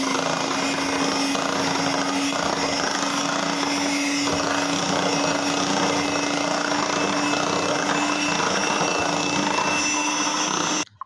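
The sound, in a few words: electric mixer whipping milk and yellow food colour for mango ice cream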